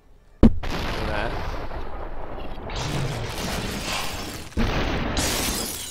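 A gunshot in the video game SuperHot: a sharp, loud crack followed by sustained crashing, shattering game noise, with another loud burst a few seconds later.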